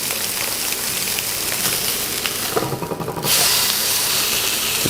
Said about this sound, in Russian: Прямо без масла обжариваем, точнее прижариваем.